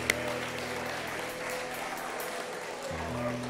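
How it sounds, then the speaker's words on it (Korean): Congregation applauding at a New Year's Eve church service, a steady wash of many hands clapping throughout, with a sustained organ or keyboard tone underneath. "다들 우리 하나님 앞에 감사의 박수 올려드리시고"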